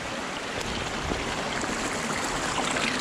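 Water rushes steadily in a stream, a constant broad hiss and gurgle close by with no voices, as a Redcat Gen 8 Scout RC crawler approaches the water.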